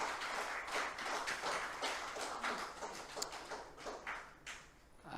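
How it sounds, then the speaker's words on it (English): An audience claps for the panelists at a panel discussion, a steady dense wash of applause that slowly thins near the end. "can we have a round of applause for our panelists"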